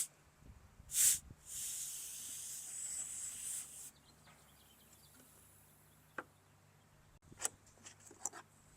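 Refrigerant hisses out of a Schrader valve on a mini split air conditioning system in two bursts, a short sharp spurt followed by a steady hiss of about two seconds, then faint clicks and small metallic taps with no talking.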